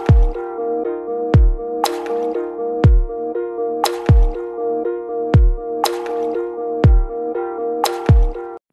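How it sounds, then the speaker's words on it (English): Kick and snare drums play in a mix, alternating in a steady groove with a sustained tonal pad or bass underneath, the kick thudding deep and the snare cracking bright at a regular pace. "now if we play that track with the kick and snare"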